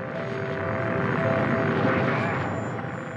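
Archival launch of the Mercury-Redstone rocket carrying astronaut Alan Shepard in 1961: a continuous, loud broadband engine roar that holds steady and swells slightly throughout, with no talking over it.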